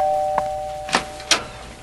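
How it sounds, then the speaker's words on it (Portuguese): A house doorbell rings with a steady electronic tone, followed by several sharp chime strikes in quick succession, close and clear, with no talking. "Algum tempo mais tarde, a campainha toca na casa das duas irmãs."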